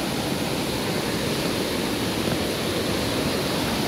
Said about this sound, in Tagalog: ayan daw ang lukso falls